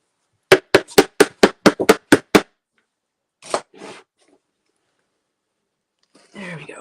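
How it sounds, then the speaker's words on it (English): A hammer knocks a stuck, dried-up paint tube open: nine quick, evenly spaced, sharp strikes in a fast burst, then a pause and a few softer handling sounds. "I need a hammer."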